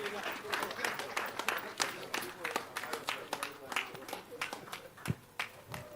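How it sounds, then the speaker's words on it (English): Scattered clapping from a small audience at a question-and-answer event, sharp uneven hand claps in quick bursts, moderately close with varying loudness and a voice heard among them. "Please do not stop clapping."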